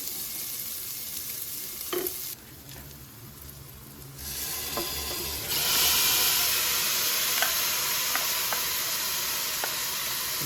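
Marinated mutton for a Kongu Nadu-style biryani fries in a pan, a close, continuous sizzle that swells louder when the meat goes in, broken by brief stirring clinks.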